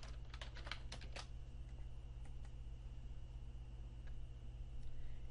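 Someone types a search term on a computer keyboard: a quick burst of close, crisp key clicks at the start, followed by a few scattered taps over a constant low hum.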